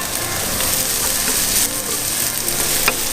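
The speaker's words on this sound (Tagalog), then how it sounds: "We're going first to gisa the onions, and then throw in our ginger." Onions and ginger sautéing in a hot pan for a chicken arroz caldo, a steady close sizzle and frying crackle with occasional stirring scrapes, no voices.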